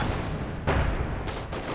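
Gunfire and mortar rounds boom in Company of Heroes 2 battle, a couple of sharp impacts over a dense rumbling background of distant combat.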